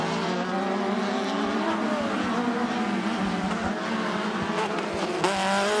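Race cars roar around a dirt track at an Elk River, Minnesota sportsman-class event, sprint-car-like machines with engines droning continuously and loudly, tires occasionally squealing and skidding through the turns.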